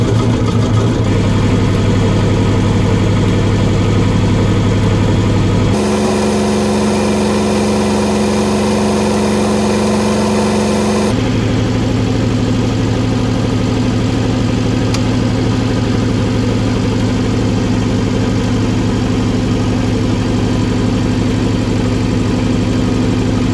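An Austin 7 Special engine running steadily after a rebuild, a loud continuous mechanical drone with a brief stretch where the tone shifts to a higher, revving pitch before settling back to a steady idle.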